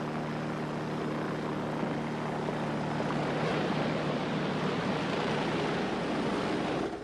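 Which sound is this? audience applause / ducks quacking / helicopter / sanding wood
helicopter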